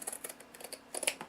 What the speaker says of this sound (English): now I'm just going to take my scissors and I'm just going to cut that